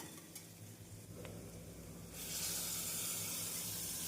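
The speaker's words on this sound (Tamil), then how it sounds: "இந்த அளவு வெங்காயம் இஞ்சி பூண்டு வதங்கவும் துருவிய கேரட்டை சேர்த்து விடலாம்." Steady sizzling of grated carrot sautéing with onion, ginger and garlic in a pan, with occasional stirring scrapes, growing louder and brighter partway through as the hiss intensifies.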